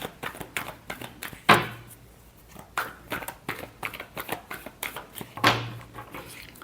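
Tarot cards are shuffled by hand in a run of quick close riffles and taps, with a couple of heavier thumps as the deck is squared, alone and fairly loud.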